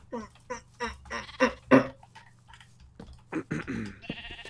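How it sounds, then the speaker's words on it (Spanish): Several sheep bleat in a farm scene, a string of short wavering bleats spaced about half a second apart, fairly close and clear, with a brief buzzing electronic tone at the end. "Pongo a las ovejas en su sitio."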